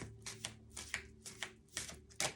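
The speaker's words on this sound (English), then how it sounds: "Hardest cards in the world to shuffle, honestly." Tarot cards are shuffled by hand in a quiet room, a series of about eight short papery riffles and slaps in an irregular rhythm, close and soft.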